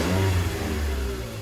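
A car engine with check engine and VSC warning lights runs and revs briefly, a steady mid-pitched hum rising slightly, close and alone.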